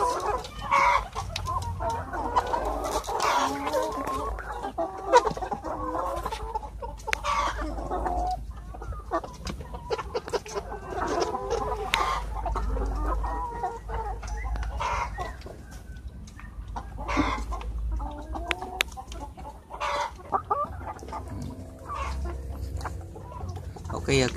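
Clucking from a flock of 13-week-old laying hens in a small layer coop of about 400 birds, a steady near, continuous chorus of clucks with a few crows mixed in and some speech beneath.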